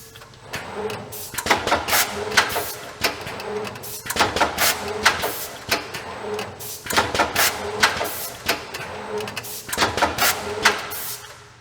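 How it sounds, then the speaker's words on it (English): AutoStix machine cycling through an empty strip at raised speed, a mechanical clatter and whir in repeating bursts every couple of seconds, steady rhythmic cycles at moderate close range with no talk. "you can just turn up the speed and let it run through that strip"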